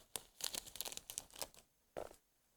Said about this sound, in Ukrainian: відпрацьовану серветку можна запхати назад в пакетик